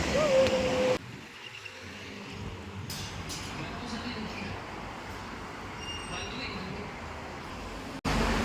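Commuter train at Karet station in Jakarta, a steady loud rumble of rail carriage noise with brief wheel squeal, continuing throughout with a sharp cut near the end; faint voices mixed in.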